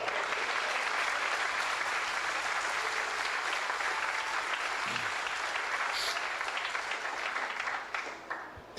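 A church congregation applauding during a service, a loud continuous wash of many hands clapping that holds steady for several seconds and tapers off near the end.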